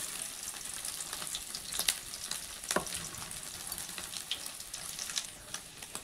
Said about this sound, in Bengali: তো এই যে ভাজছি, সর্ষের তেলেই ভাজছি আমি।